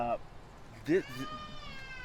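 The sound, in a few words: cat meowing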